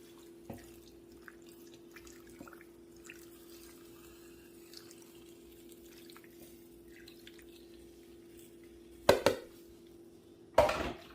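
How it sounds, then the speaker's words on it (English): Beef broth mixed with Worcestershire sauce is poured into a Crock-Pot, a faint low trickle under a steady electrical hum, ending in two louder clinks of the container against the cooker. "And now we're going to pour this in here."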